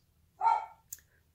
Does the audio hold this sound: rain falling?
no